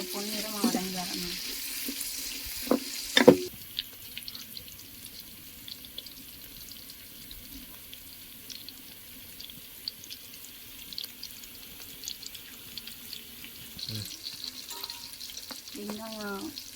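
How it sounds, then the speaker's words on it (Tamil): Onions sautéing in a pan for a fish curry make a soft, continuous sizzle under quiet stirring and scraping, with a few brief louder clatters and short bursts of background voices near the start and end. "வெங்காயம் பொன்னிறமாக வதங்கிடுச்சு."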